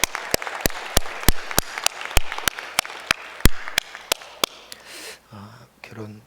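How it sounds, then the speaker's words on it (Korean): A church congregation claps together in a burst of many sharp, evenly spaced claps that gradually thin out and fade, then a few faint murmurs and a brief vocal sound follow at the end. "은혜 주신 하나님께 영광의 박수 올려드리겠습니다"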